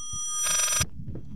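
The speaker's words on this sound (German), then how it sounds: "Nerviges Telefon. Lass mich in Ruhe." In the horror video game Layers of Fear, a telephone gives one short, bright electronic ring burst of about half a second, with faint low rumbling ambience before and after it.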